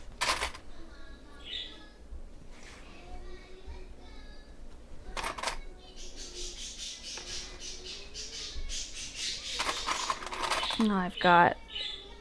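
Pet birds in a household squawk and chirp in scattered bursts in the background, with intermittent sharp clicks and brief speech from a person nearby, all fairly quiet in an indoor room.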